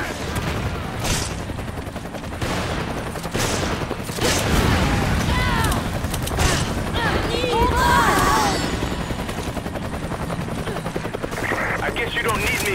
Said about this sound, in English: can hear gunfire